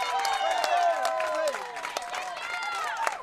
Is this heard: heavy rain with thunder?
no